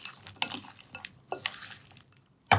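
Smashed cucumber gets tossed with dressing in a bowl, giving a few irregular wet clinks and scrapes of utensil against dish, with one sharp knock at the end and quiet gaps between.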